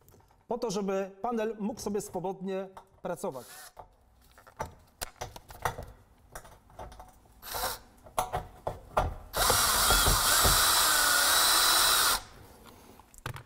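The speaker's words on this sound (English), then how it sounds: "attach the panel, screwing it into the kidney slot halfway, so that the panel can work freely" A power screwdriver drives a screw halfway into a kidney slot to attach a Solid VOX facade panel, giving one loud, steady whirr of about three seconds near the end, after a stretch of speech and quieter handling.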